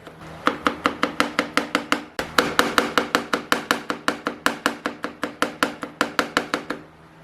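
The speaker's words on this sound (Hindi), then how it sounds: "बारीक चॉप कर लेना है आपने लहसुन को।" Fast, steady chopping of desi garlic with a knife on a board, about thirty crisp, evenly spaced knocks, close and clear with a brief pause near the start, no talking.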